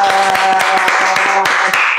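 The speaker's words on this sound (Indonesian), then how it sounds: "Wah, tepuk tangan." A short burst of group clapping, steady and fairly loud, with a faint tonal hum running underneath.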